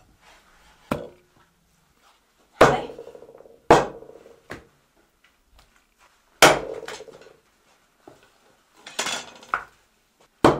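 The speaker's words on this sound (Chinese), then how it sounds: "咱们做这个酱牛排，把这个牛排剁大一点，" A cleaver hacks through half a rack of beef ribs on a board, cutting them into large pieces for braised soy-sauce ribs. Heavy chops land singly and in pairs with pauses between, loud and close, alongside a brief spoken word.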